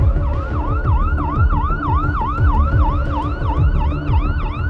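Ambulance siren wailing in a steady repeating up-and-down sweep, loud and close, with a low vehicle rumble underneath and no talking.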